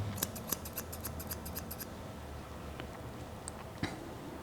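Grooming scissors snip rapidly around a Shih Tzu puppy's face fur in a close, quiet run of crisp clicks. A few isolated snips follow after a pause.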